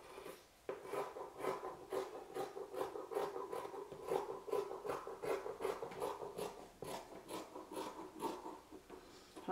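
Scissors cut through a doubled layer of fabric for a simple dress, giving a steady run of crisp, close snips, roughly two per second, with no talking.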